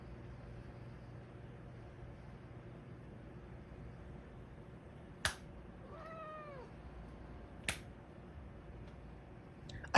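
A cat gives a single wavering meow partway through, set against quiet room hiss, with a couple of sharp clicks before and after.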